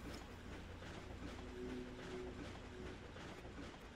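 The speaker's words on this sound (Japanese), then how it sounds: "とりあえず列車乗っちゃおう" Train ride in the Ratchet & Clank game, with a steady low rolling rumble and faint tonal hum continuing throughout at moderate level, no speech over it.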